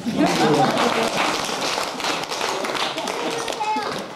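Crowd at a 60th birthday celebration clapping together to keep rhythm, a dense patter of hand claps over lively talk and voices in the room.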